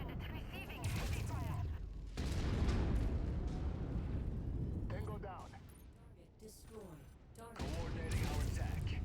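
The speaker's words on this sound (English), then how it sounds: "Lead units receiving heavy fire." Heavy gunfire in MechWarrior 5, loud bursts of rapid shots and booming impacts that come in waves with brief lulls, mixed with in-game voices.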